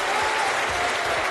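Rally crowd at a Lok Sabha 2024 election campaign event applauding steadily, a dense continuous wash of many hands clapping at moderate loudness for a little over a second.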